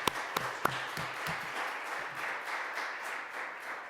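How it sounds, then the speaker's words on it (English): Applause from a conference audience, light and scattered, with a few sharp individual claps standing out near the start before settling into a steady patter for the rest. "I hope you give him a good round of applause right now."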